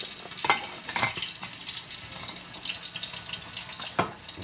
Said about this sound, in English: I'm just frying up some bacon.